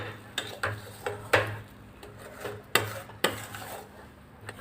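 A spoon clinks and scrapes against a pan while moong dal and semolina are stirred together, a string of sharp metallic knocks and rubs in irregular rhythm, close and clear with no talking.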